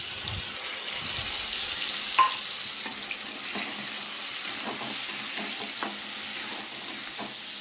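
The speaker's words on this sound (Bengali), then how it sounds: "এবার বেশ খানিকক্ষণ কষাবো, যতক্ষণ না মশলা থেকে কাঁচা গন্ধটা চলে যায় ততক্ষণ কষাতে থাকবে।" A spice paste of tomato, ginger and cumin with salt and turmeric fries with potatoes in a pan, sizzling steadily up close with repeated scraping stirs and light clinks.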